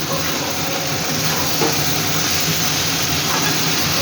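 Water poured over frying soybean curry makes a loud, steady steam hiss that holds unbroken throughout.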